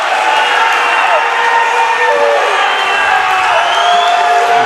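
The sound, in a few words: basketball crowd reacting to an offensive foul call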